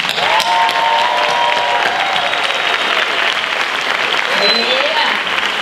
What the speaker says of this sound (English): let's get a round of applause for all the family